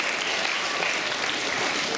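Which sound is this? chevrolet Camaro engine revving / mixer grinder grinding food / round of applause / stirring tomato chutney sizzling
round of applause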